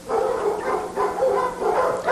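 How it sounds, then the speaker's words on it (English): A dog barks at a person in a rhythmic, repetitive run of close, loud barks and yips, with a few short gaps between bursts. "He's barking at you, not for you."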